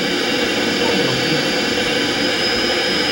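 An airplane engine in GTA roars steadily and loudly throughout, a broad constant whine and rumble with no pauses.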